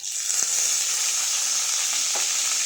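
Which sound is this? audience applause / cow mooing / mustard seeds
mustard seeds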